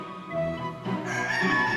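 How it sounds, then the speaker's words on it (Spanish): A live rooster crows inside a Gothic cathedral in La Rioja, where a rooster and hen are kept in an ornate henhouse; a single short, close, clear crow. "la gallina saltó del plato y se puso a cantar"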